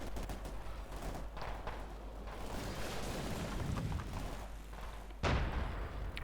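Pak 40 anti-tank gun shots amid battle in Company of Heroes 2, a fairly quiet mix of distant gunfire and rumbling with a sharper, louder shot near the end.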